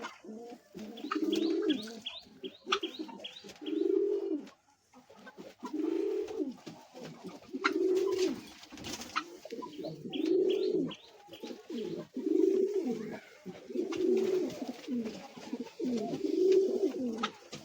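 Pouter and king pigeons coo steadily in a loft, a repeated rhythmic series of low throaty coos from several birds close by, with occasional faint chirps and no talk.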